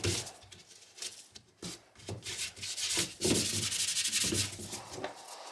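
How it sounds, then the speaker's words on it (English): Hand sanding of cured Bondo spot filler on a 3D-printed rifle part, uneven back-and-forth rubbing strokes with short pauses, close and moderately loud, no talking. "The Bondo spot filler has now cured and it is time to hand sand."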